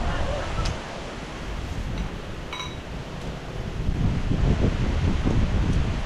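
Strong wind buffets the microphone in rumbling gusts that grow louder toward the end, with faint clinks in the background.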